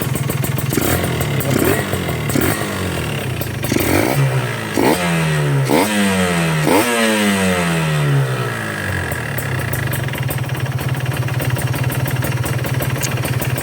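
A cold two-stroke motorcycle engine, not yet warmed up, runs loud and close with a buzzy idle, then revs up in several rising bursts around the middle before settling back to a steady idle.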